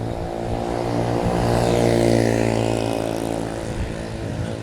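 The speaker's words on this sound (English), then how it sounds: "this motorcycle go on by." A steady engine drone swells and then fades slightly as a vehicle passes, with no talking.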